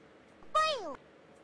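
An angry cat gives a single short meow, a clear falling cry in an otherwise quiet setting.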